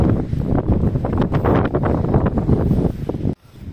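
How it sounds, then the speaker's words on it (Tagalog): Strong gusty wind in Perpignan roars and buffets the microphone in a continuous loud rush, then cuts off abruptly near the end. "Grabe talaga po ang hangin"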